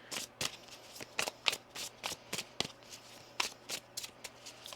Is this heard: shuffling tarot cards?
yes